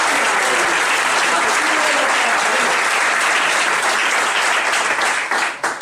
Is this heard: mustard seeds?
no